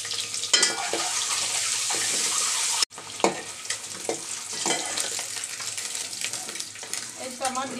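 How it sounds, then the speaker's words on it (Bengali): Four eggs fry lightly in a pan with a close, continuous sizzle, broken by a sudden cut, then sputtering pops and occasional scraping stirs. "তার মধ্যে ডিম চারোটা একটু আগে হালকা করে ভেজে নিব।"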